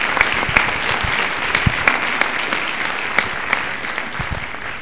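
Applause at a high school winter band concert for the Concert Band, a steady wash of clapping with distinct nearby hand claps popping out irregularly above the crowd.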